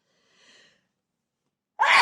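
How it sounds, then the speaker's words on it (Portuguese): A single sharp sneeze bursts out close and loud near the end, preceded by a faint breathy inhale after a moment of quiet. "vou espirrar"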